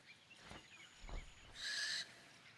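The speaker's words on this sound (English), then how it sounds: "A barn owl is searching for new hunting grounds." A barn owl calls from open country in cold weather, a single harsh, drawn-out screech lasting about half a second, clear and fairly close against a quiet background.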